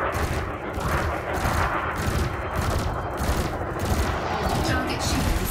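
Gimballed ship weapons fire in Elite Dangerous, a sustained rapid barrage of loud repeating shots running the whole time with a rumbling low end beneath.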